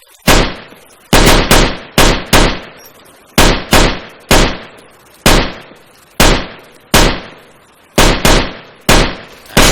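Weapon gunfire from the Arma 3 war mod video game: a dozen loud, sharp single shots, some spaced apart and some coming in quick pairs, each followed by a short decaying echo, with no talking.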